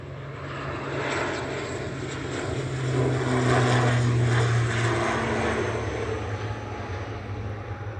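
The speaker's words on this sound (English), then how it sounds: "Aer Lingus Regional heading back to Belfast there, CMJM, one of the ATR 72-600s." An Aer Lingus Regional ATR 72-600 turboprop airliner drones past near Manchester Airport, its propeller hum swelling to a peak midway and then easing off, steady and fairly loud with no talk.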